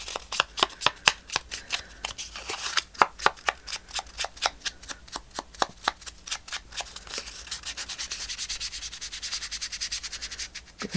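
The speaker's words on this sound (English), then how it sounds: "let's scrunch this paper." Sheets of paper are crumpled and scrunched by hand during a check book journal craft session, giving a rapid, irregular run of crisp crackling bursts that continues close to the mic, with no talking.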